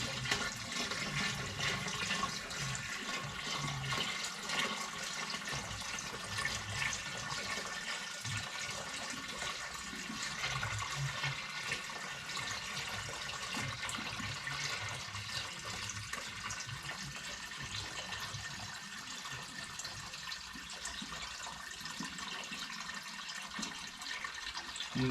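Water pours steadily into a freshwater aquarium tank being filled fast, a continuous rushing, splashing flow heard up close with no talking.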